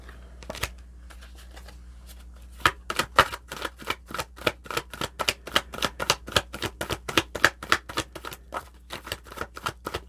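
Tarot cards are shuffled close up in a long quick run of crisp riffling slaps and flicks, beginning sparsely and then settling into a fast, steady rhythm, with no talk.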